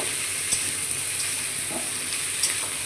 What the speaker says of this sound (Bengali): একটু ভাজা ভাজা মতো করে নেব মানে তেলেতে একটু কাঁচা গন্ধটা কেটে যাওয়ার মতো একটু ভালো করে নাড়াচাড়া করে নেব